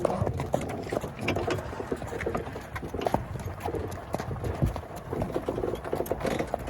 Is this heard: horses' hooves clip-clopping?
yes